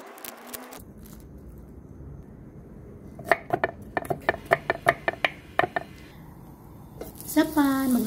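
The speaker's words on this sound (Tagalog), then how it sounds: "Maghiwa tayo ng bawang." A knife slices garlic on a cutting board in a home kitchen, about a dozen crisp, evenly spaced cuts in a quick rhythm, with a voice speaking just before and after.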